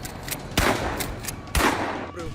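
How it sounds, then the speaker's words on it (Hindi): An automatic gun fires in rapid bursts, with two sharp, loud reports standing out against quicker crackling shots over about two seconds. "हाथ में ऑटोमेटिक गन और ताबड़तोड़ फायरिंग।"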